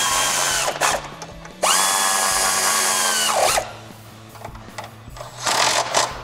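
Impact wrench with a 13 mm socket driving nuts on a textured black Barricade Rubi Rail bracket under a 2-door Jeep Wrangler JL, in loud sustained whirring bursts with short pauses between them.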